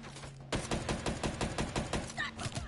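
Rapid bursts of automatic gunfire from the video game Black Ops, a loud sustained volley of closely spaced shots after a brief quiet start.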